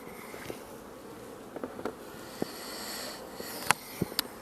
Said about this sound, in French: Il y a des abeilles et ça vole partout